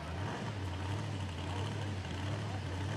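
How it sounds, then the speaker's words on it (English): Blown big-block Chevrolet engine in a second-generation Camaro drag car at a drag racing event, a loud, steady roar with no break throughout. "Blown big block Chevrolet under the hood of this second-gen Camaro"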